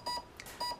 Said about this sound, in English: power it up, wait for the beeps,